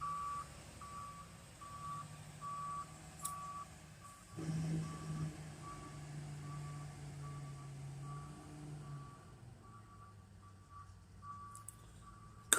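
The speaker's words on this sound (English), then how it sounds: "Truck." A truck backing up sounds a steady series of reversing beeps that carry on through the whole stretch, with a low engine rumble underneath that swells partway through, as if the truck draws nearer, and then eases off.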